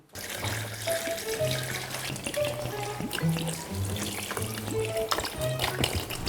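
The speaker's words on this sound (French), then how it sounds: "Je vais mettre de l'eau dans la machine." Water pours into a small portable washing machine bought from Temu, a steady running splash with gurgling tones, fairly loud and continuous throughout with no talking.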